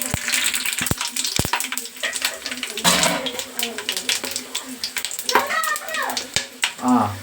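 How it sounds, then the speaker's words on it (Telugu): Pulao whole spices fry in oil in a pan over a gas stove, sizzling steadily with stirring scrapes and clinks throughout, while a background voice briefly sounds. "కావలసినవి పలావ్ సరుకులు అందులో వేసుకుని బాగా వేగేలాగా తిప్పుకోవాలి"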